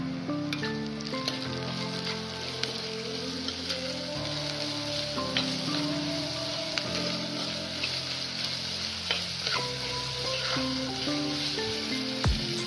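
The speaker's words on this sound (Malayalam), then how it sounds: "അപ്പോൾ നമ്മുടെ ഉള്ളിയൊക്കെ ഇവിടെ പകുതി വഴണ്ടു വന്നിട്ട് അതിലേക്ക് നമുക്ക് കുറച്ച് ഉപ്പ് കൂടി ചേർത്ത് കൊടുക്കാം." Chopped onions sautéing with salt in a pan for a Kottayam-style mackerel fish curry, giving a steady, even sizzle and soft frying crackle throughout, with no talking.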